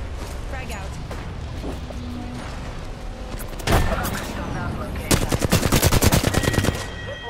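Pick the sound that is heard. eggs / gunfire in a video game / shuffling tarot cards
gunfire in a video game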